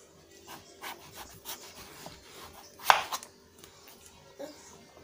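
Scraping and rubbing of a knife against tough vegetable skin, with uneven strokes and one sharper cut, fairly quiet and close.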